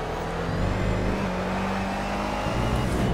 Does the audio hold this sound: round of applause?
no